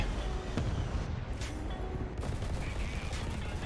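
Rapid gunfire in War Thunder with a few sharp, heavy tank gun blasts from an SPz Marder A1 punctuating a dense, continuous battle din; no one speaks.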